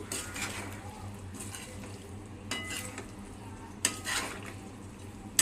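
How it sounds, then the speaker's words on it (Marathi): Spiced steamed potato sabzi stirred in a pan with coriander-cumin powder, a spoon scraping and clinking against the metal in repeated strokes over a soft sizzle. "आता त्यात थोडं धनाजिरा पावडर टाकूया आता त्याला पण आपण मिक्स करून घेऊया"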